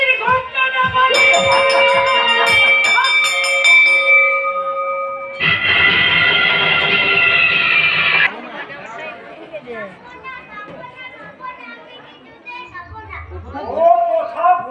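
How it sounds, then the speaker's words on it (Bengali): A school bell rung for dismissal clangs in a rapid ringing run near the start, followed by loud children's chatter and playground noise. "ছুটির ঘন্টাটা বাজিয়ে"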